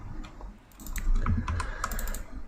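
Close, continuous tapping of a computer keyboard as text is typed, a quick run of soft key clicks lasting a couple of seconds.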